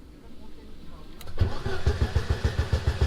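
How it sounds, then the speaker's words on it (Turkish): A car engine cold-starts, cranking with the throttle pumped until it catches, then settles into a rough, rhythmic chugging idle, loud and close, with voices faintly in the background. "Bas marşa pompala."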